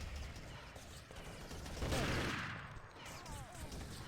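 Gunfire in a competitive shooter match, USA versus Belgium, a steady crackle of shots with a louder swell in the middle, mixed with game effects and faint background commentary.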